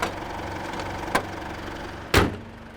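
A car engine idles steadily after a battery jump-start, a low even hum close by, interrupted by a light knock and then a louder bang like the bonnet being shut, with no speech.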